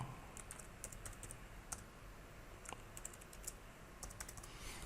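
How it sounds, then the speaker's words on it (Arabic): Quiet keyboard typing as a new Wi-Fi password is entered during setup of a D-Link router. Irregular clusters of light key clicks sound close but soft, with short pauses between bursts and no talking. "وهنكتب كلمة السر الواي فاي الجديدة اللي احنا غيرناها"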